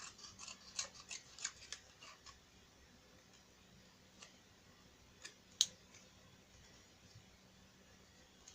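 Scissors cut scrapbooking paper in a quiet room, with a run of faint, crisp snips near the start and a few isolated clicks later, all soft and close with no talking.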